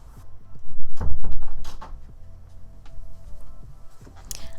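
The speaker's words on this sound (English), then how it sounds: "my cat is clawing at the door." A cat claws and bumps at a door, sharp scratching scrapes and a heavy rattling thud early on, then scattered lighter scrabbles and taps, close and fairly loud with no talking.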